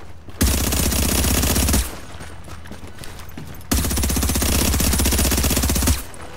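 The Bullfrog submachine gun in Destiny 2 fires two long, loud, sustained automatic bursts with a rapid rattling cadence and a short pause between them.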